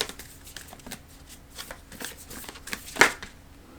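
Oracle cards being shuffled and pulled from a deck, with soft riffling and sliding under a quiet background and one sharper snap of cards near the end.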